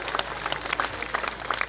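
A large crowd at an outdoor political election rally claps and cheers loudly, a dense, uneven roar of hands with bursts of voices mixed in.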